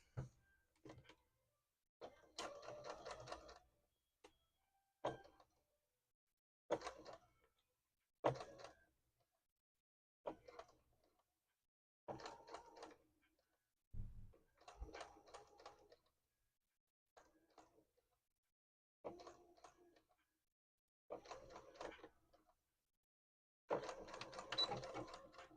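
A sewing machine stitches a plushie in short repeated bursts of rapid mechanical chatter, separated by pauses of near silence, fairly quiet and close.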